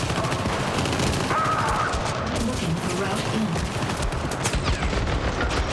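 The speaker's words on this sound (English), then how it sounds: "it is just shooting and shooting and shooting and shooting and shooting." Dense, nonstop gunfire fills the video game Syndicate: a loud, continuous barrage of overlapping shots with no real pauses.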